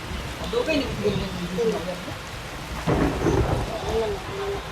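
Rain falls steadily on a surface while thunder rumbles low and rolling, swelling louder partway through, and a voice talks faintly underneath.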